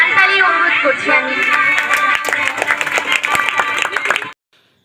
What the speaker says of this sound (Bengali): সবাইকে একটু হাততালি অনুরোধ করছি আমি